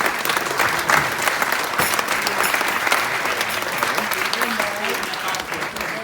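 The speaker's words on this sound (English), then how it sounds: "And a little round of applause as well." A wedding crowd claps in a full, lively round of applause during a best man speech, the clapping dense and continuous throughout with scattered voices mixed in.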